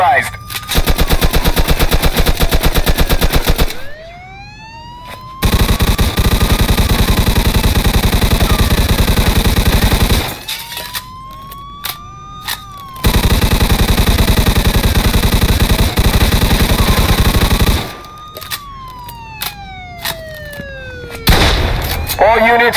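Long bursts of automatic weapon fire rip loud and close in the Mafia II video game, separated by brief pauses, with vehicle engine whines and sirens rising and falling between volleys.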